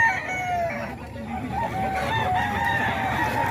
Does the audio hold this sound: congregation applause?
no